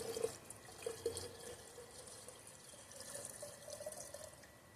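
Water that sat outside trickles and splashes steadily into a snake plant pot, a soft continuous pouring with a few brief drips near the start, fairly quiet and close.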